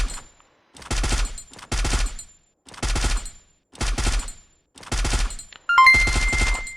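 Three-round bursts from a gun in the mobile battle game Free Fire, fired in about five separate short volleys with brief silent gaps between them, loud and close, with no talk over the shots.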